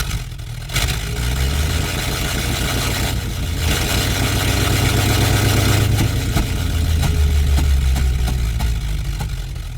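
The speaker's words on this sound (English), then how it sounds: "and even synthesizing vehicle engines" Synthesized vehicle engine made with the Phase Plant synth for game sound design, a loud, low rumbling motor that idles, then rises into revving surges and drops back, continuous for about ten seconds with no voices.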